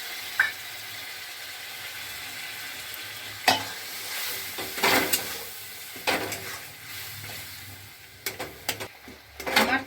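Spiced masala paste of Kashmiri chilli powder mixed with water sizzles and fries in a kadai, with a steady hiss broken by several sharp clanks and scrapes of stirring, close and fairly loud, no talking.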